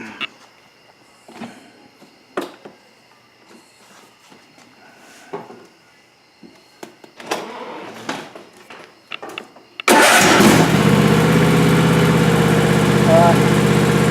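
A Husqvarna YTH24V54 XLS riding lawn mower with a drive belt vibration problem: quiet clicks and handling noises, then the engine abruptly starts and runs loud and steady, close by, with a rough vibrating drone.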